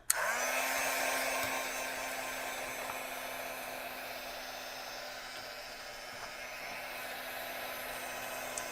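A hair dryer blows steadily over a gel plate print, a loud continuous whir with a high whine that starts abruptly and holds on, close and alone without any talk.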